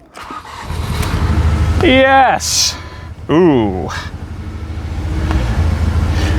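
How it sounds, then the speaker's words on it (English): A car engine cranks and starts off a portable jump starter, with a couple of loud cranking bursts before catching into a rough, close idle while people exclaim over it. "And now we turn the key to see if it starts."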